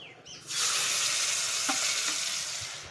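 Tomato dropped into hot oil with curry leaves in a pan, bursting into a loud, steady sizzle that holds close and even, with a couple of faint clicks from stirring.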